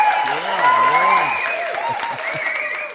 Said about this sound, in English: Let me applaud you too.